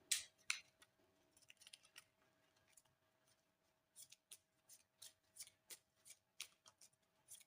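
Oracle cards are shuffled close by, a quiet run of soft papery riffles and light taps in uneven bursts, with no talk.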